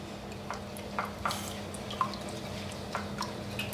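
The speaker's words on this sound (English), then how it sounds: "we're just gonna whisk all of this together" Ingredients being whisked together in a bowl, with quiet, close ticks and taps of the whisk against the bowl at an irregular pace over a low background hum.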